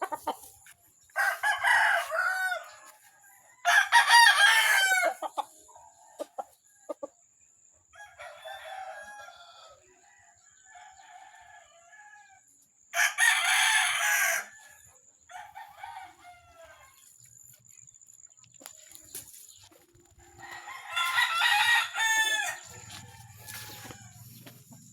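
Pet chickens and roosters in a yard in Cavite, with several loud, close cock-a-doodle-doo crows in repeated bursts and softer clucking and chatter in between.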